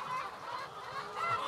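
A hen in a dark, quiet laying nest clucks softly in a brief, low, murmuring series, close by and fairly faint.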